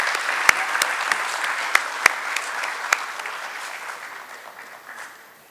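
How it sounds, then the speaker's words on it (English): Audience applause at a formal inaugural session for a stock exchange handbook launch, a steady wash of clapping from a seated crowd with a few sharper nearby claps, gradually thinning and fading toward the end. "let's give them both a big round of applause"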